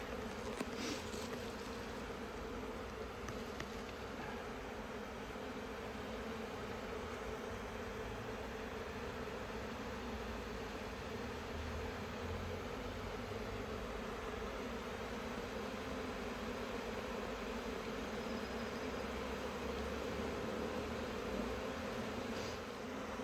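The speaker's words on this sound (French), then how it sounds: "On va les laisser appeler la reine pour l'instant, enfin les autres abeilles" A dense, steady buzzing of a honeybee swarm being captured, continuous and unbroken throughout, with no voices.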